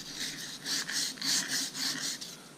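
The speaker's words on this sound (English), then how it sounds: "I'm using plumber's sandpaper on it" Plumber's sandpaper scrubs the metal shaft of a Troy Bilt Horse rototiller in quick, even back-and-forth strokes, close and soft, with no one speaking.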